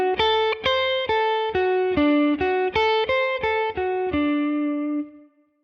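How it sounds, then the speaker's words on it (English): Electric guitar picks a D dominant 7th arpeggio, about a dozen separate clean notes in an even rhythm. It rises and falls through the shape, then lets the last note ring out and decay. Loud and close, with no talk. "That, what I just played, is a D dominant 7th arpeggio shape"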